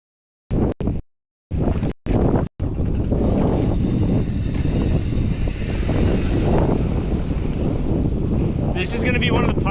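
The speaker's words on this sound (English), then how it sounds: "I'm going head on into the wind. So it's pretty windy here." Strong wind buffets a GoPro microphone as an inline skater heads straight into a headwind outdoors. A few short bursts come first, then a loud, continuous low roar that carries on without a break.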